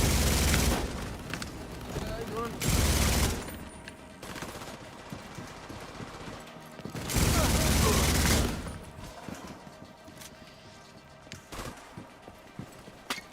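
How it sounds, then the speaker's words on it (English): An LMG machine gun in a video game fires two long, loud sustained bursts of rapid shots, with scattered single shots and game noise between them. "This gun rips the LMG."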